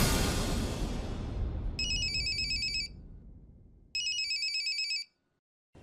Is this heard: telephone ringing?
yes